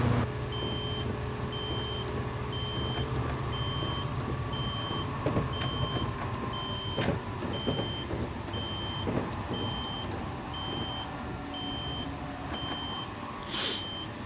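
Cab warning beeps sound inside a Caltrain MP36 locomotive in Train Simulator, a regular series of short electronic tones repeating over a steady low engine hum, with a brief louder burst near the end.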